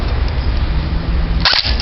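An MP5 CQB airsoft gun fired on semi-automatic gives a couple of quick, sharp snaps near the end, heard close over steady hiss and background noise, with no voices.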